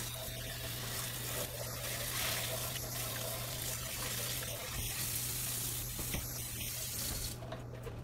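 Tap water running steadily while a blender lid is rinsed in a sink, a soft continuous spray and trickle with small splashing changes and no talking.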